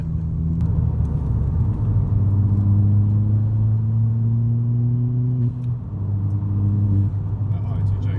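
Modified Ford Fiesta ST with a Mountune 215 kit, straight-through exhaust and ITG intake, engine droning steadily with rising tone as it pulls, loud and close, with people talking over it.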